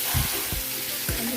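Potatoes dropped into pork cooking in a pot, giving a steady close sizzle with a few soft thumps and stirring clunks as the pieces land and shift.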